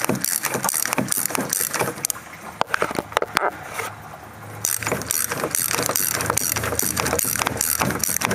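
A ratchet on a long extension and swivel clicks rapidly and repeatedly, close up, while loosening the timing belt tensioner on a 2007 Toyota Sienna 3.3L V6, with a brief pause midway.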